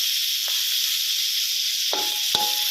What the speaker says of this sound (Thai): ทอดให้กุ้งพอสุกนะครับ